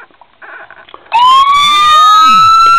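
A 1:18 Ford Crown Vic police model car sets off its built-in electronic siren: after some quiet handling noise, a loud, close wailing tone starts abruptly and keeps sweeping up and down.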